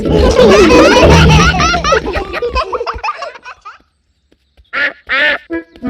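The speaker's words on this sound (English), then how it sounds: "Oh, it is Mrs. Duck." A cartoon duck quacks in short voiced bursts, at first mixed with children's giggling and laughter, then after a pause two brief, clear quacks ring out on their own.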